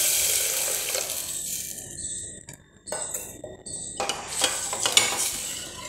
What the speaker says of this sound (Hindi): अब मैं इसमें दूध डालूंगी